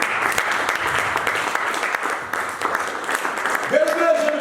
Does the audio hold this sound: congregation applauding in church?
yes